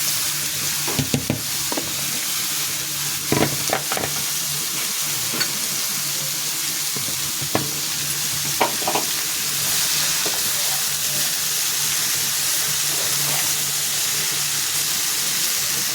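Ash gourd pieces fry in a pan with five-spice seeds and bay leaf, giving a steady, close hiss and sizzle with a few sharp clinks and taps early on and no talking.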